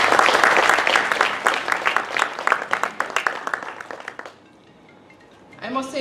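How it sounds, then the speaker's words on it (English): An audience applauds at a breakfast launch ceremony in Jamaica, a dense, steady round of clapping for about four seconds that fades out into room quiet, followed by a voice starting to speak. "I think you deserve to give both teams a round of applause."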